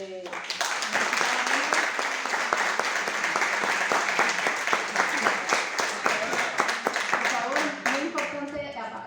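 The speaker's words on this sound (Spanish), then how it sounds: "para ella pido un aplauso" Audience applause at an academic tribute event, sustained, even clapping from a crowd with voices heard over it near the start and again at the end.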